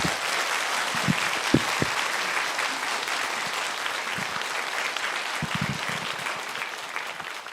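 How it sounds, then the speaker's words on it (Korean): An audience at a book concert applauds warmly as the monk Geumgang of Mihwangsa temple is welcomed onto the stage, with thick, sustained clapping from a large crowd that fills the room evenly throughout. "따뜻하고 뜨거운 박수 부탁드립니다."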